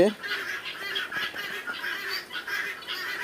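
Tithi chickens on a farm give repeated nasal, honking calls, several birds overlapping in a steady run of close, moderately loud cries.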